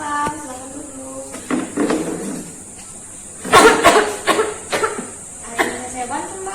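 A person with a week-long cough coughs a few times at a pharmacy counter, close and fairly loud, in short harsh bursts mixed with talking.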